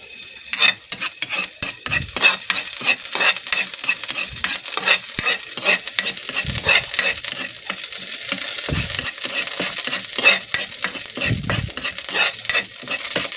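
Garlic frying in a pan for carne norte, loud continuous sizzling broken by rapid scraping and knocking stir strokes close up, no talking.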